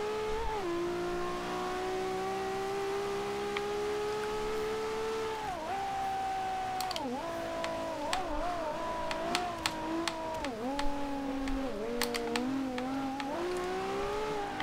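A 2012 Ferrari F12berlinetta grand tourer accelerates in Forza Horizon 2, its engine note climbing steadily in pitch, then dipping and rising through several quick gear shifts with sharp clicks.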